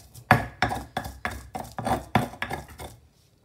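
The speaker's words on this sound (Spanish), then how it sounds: "Voy a moler primero los dos ajos." Two garlic cloves ground with salt for a keto Mexican chile pasilla steak dish, heard as about nine evenly spaced, close, gritty grinding strokes with nothing else in the background.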